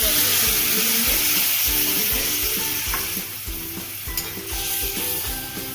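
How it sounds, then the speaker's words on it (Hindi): Ground turmeric, coriander, chili and cumin masala frying in a pan: a loud, continuous sizzle with a repeated rhythmic scraping of the spoon stirring close by. "हल्दी पाउडर, धनिया पाउडर, मिर्ची पाउडर और जीरा पाउडर। ये सब मसाला को अच्छे से भून लेंगे।"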